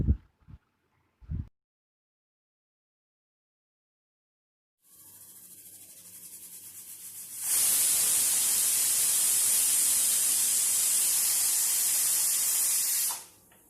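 A pressure cooker on the stove, cooking washed squid for a Kerala-style roast, releases its whistle as a loud, steady hissing steam blast that lasts several seconds and then cuts off abruptly, following a quieter rising hiss.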